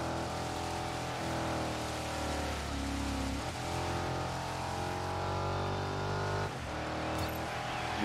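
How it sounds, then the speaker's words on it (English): A Chevy Colorado truck drifts in Dirt 5, its engine droning steadily and loudly with gritty tire and gravel wash throughout, pitch dipping briefly a couple of times as it slides, no talk. "is really hard to drift in this big ass truck"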